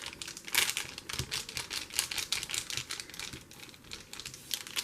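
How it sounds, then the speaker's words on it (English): Craft material crinkling close up as it is pressed flat onto lumpy paper with an Elmer's Craft Bond Extra Strength glue stick, a quick run of dry, crackly rustles in irregular bursts. "Listen to the crinkle."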